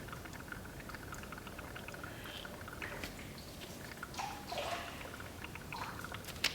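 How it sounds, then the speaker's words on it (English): Fuel draining from the water separator of a 2001 Ford F-350 into a pan: a faint, uneven trickle with a few soft splashing and gurgling bursts, close by and without speech. "now, I like to come up and drain my water separator"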